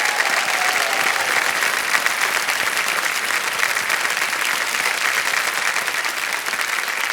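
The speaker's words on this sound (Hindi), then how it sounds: "तालियां बजती रहे इनके लिए" A studio audience on a quiz show breaks into loud, sustained applause, dense even clapping from many hands that carries on steadily without talk.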